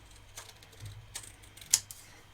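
Excess cardstock overhang being trimmed while making a hot air balloon birthday card, with a few crisp, separate clicks and snips close by, the loudest near the end, and no talk.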